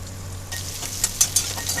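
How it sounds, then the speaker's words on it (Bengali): Potato pieces sizzle in hot oil with dried chillies and nigella seeds, a steady hiss that picks up about halfway through, with a few sharper crackles and pops, up close and with no talking. "ভাজা হয়ে গেলে তাতে আমি আলুগুলোকে আস্তে করে ছেড়ে দিলাম"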